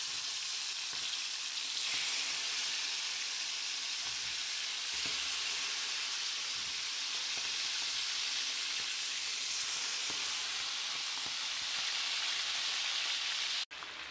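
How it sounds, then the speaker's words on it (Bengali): Chicken pieces fry in hot oil, a steady, dense sizzle and crackle running unbroken at close range, with one sharp clatter near the end. "তেলটা গরম হয়ে গেছে, এখন আমি চিকেনটা দিয়ে দিলাম"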